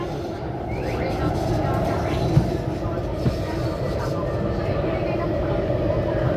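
MTR West Rail Line (Tuen Ma Line) SP1900 train, set M383, running from Nam Cheong to Tuen Mun: a steady, loud interior rumble of wheels and motors with faint rail clicks throughout, while a person talks over it.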